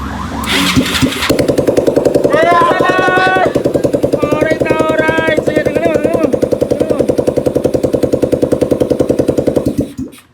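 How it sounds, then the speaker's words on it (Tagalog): A carburetted motorcycle engine, converted from fuel injection and recently repaired, fires up and runs loudly nearby at a fast steady idle with a rapid popping exhaust beat. Voices talk and laugh faintly over the engine. "first time umandar yung kanyang motor pero hindi na siya fuel injected kundi carb type"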